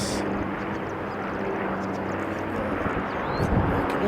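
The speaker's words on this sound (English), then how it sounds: "he looks like a Rex, so he was going to be making a lot of noise right in front of us" A Rex turboprop airliner passes nearby at Sydney airport, its engine drone loud and steady, with a faint voice heard briefly under it.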